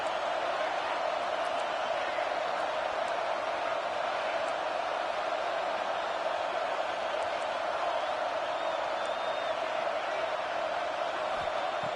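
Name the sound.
cheering football stadium crowd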